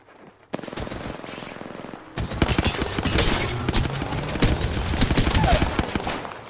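Rapid automatic gunfire from enemies in the battle-royale video game Apex Legends, loud sustained bursts of shots that start after a brief quiet moment and intensify into a dense barrage.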